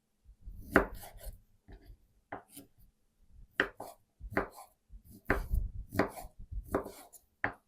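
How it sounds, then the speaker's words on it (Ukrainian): A knife chops paprika-seasoned ham into cubes on a board, with close, crisp strikes coming in irregular bursts separated by short pauses, and no talk. "Так, і шинку також кубиками."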